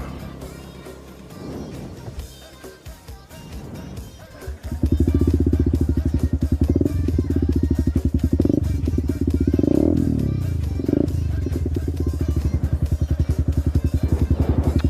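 An Mslaz motorcycle engine starts low, then roars into a steady loud drone as the bike rides along, with the pitch rising and falling with the throttle.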